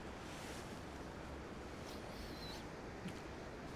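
Steady broadband rushing of a fast alpine river undercutting its bank, constant and fairly close with no breaks or voices.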